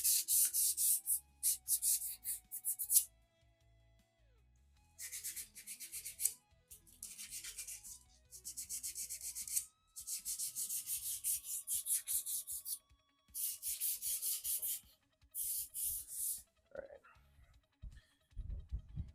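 Metal on a Volkswagen Bug gets sanded by hand in repeated bursts of close scratchy rubbing, separated by short pauses, with some quiet tones in between.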